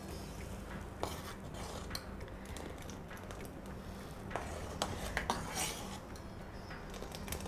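A spoon stirs badam and chocolate kulfi mixture in a pan, giving soft, continuous scraping and swishing with scattered light metallic clicks and taps against the pan, close and steady, with no talk.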